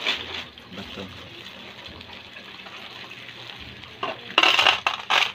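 Water is poured into a small homemade betta fish aquarium in two loud gushing bursts near the end, following a quieter stretch with faint background voice.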